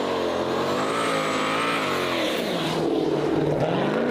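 A car revving hard during a burnout, the engine note rising and falling in a loud, continuous roar with a sustained harsh edge that could be tire squeal, close by throughout.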